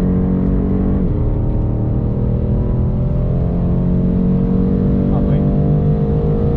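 A BMW M8 pulls hard on the Silverstone GP circuit, its engine note droning loud and steady from inside the cabin and rising slowly in pitch as it accelerates, with a voice talking over it.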